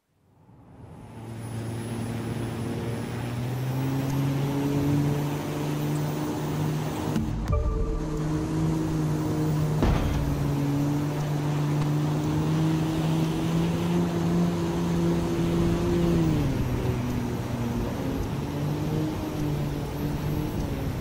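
A plane's engine drones steadily in The Crew 2 racing game during a low-altitude flying challenge in Yosemite, a loud continuous hum with shifting pitch that runs without pause and with no talk over it.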